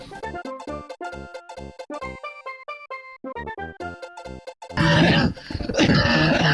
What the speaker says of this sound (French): Il commence à tousser comme un con.